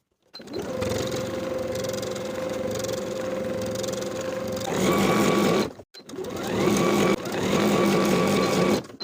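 A sewing machine stitches the waist seam of a jumpsuit, a steady mechanical whir running for several seconds, pausing briefly, then starting again close by.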